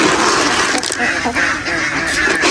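Domestic ducks kept for eggs quacking and calling in a busy flock at morning feeding time, a steady dense chorus close by with no talk.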